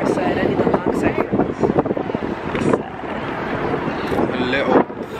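Strong gusts buffet the microphone in loud, rumbling bursts on a pedestrian bridge at night while a person speaks underneath.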